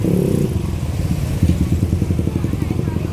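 Motorcycle engines rumble steadily and close by on a packed town street crowded with people looking for food before breaking the Ramadan fast, a dense low drone that never lets up.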